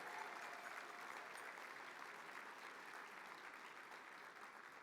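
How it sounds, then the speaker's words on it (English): A crowd applauds steadily at an awards celebration, dense and even clapping that holds throughout without talking, fairly distant and soft. "Let's give him his first round of applause for the evening."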